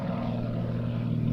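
An Extra aerobatic aircraft with a largely carbon-fibre airframe drones steadily overhead, giving a continuous, fairly loud propeller and engine hum that stays even throughout without any voices.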